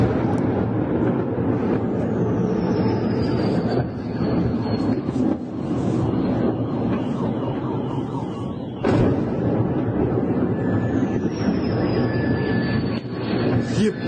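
Booms from drone attacks on Russian air bases thud at a distance under a steady droning roar, with a faint aircraft-like whine sweeping across and one sharper blast partway through.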